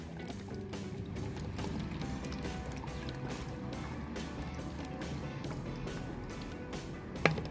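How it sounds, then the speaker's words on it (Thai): Vinegar poured from a full bottle into a container of orange peels for homemade fabric softener, a steady liquid splash and gurgle running throughout at close range with no speech. "เราจะใส่น้ำส้มสายชู ไปรวมกับเปลือกส้มนะครับ ผมจะใส่หมดขวด เลยครับ"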